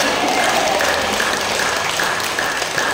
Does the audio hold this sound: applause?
yes